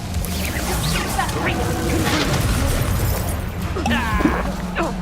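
Confringo blasting spell in Hogwarts Legacy, heard as loud booming, crashing bursts and magical whooshes in a chaotic combat mix, with a sharp impact near the end.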